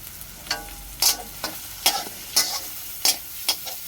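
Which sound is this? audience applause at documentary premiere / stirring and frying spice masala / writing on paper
stirring and frying spice masala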